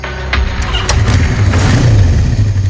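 A motorbike engine starts up and settles into a mid-pitched running rumble at close range, loud throughout, with sharp clicks and knocks over the top.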